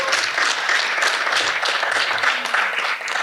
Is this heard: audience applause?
yes